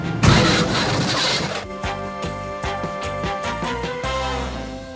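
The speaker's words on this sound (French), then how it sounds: "Ah, tracteur." A heavy tractor engine rumbles steadily with a rhythmic chugging pulse, preceded by a burst of broadband noise at the start, fairly close and loud.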